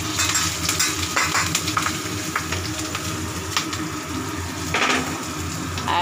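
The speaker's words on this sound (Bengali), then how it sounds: "এবারে ফোড়ন দিচ্ছি কালো জিরে কাঁচা লঙ্কা" Black cumin and green chillies crackle and sizzle as a tempering in hot oil after fish has been fried, a dense continuous fry with scattered pops and a few clinks of a utensil.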